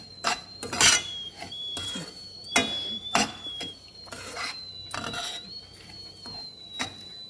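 A spoon scrapes and stirs semolina with sugar and cardamom in a pan for rava laddu, making repeated rasping strokes of uneven rhythm close by with a faint steady whine in the background.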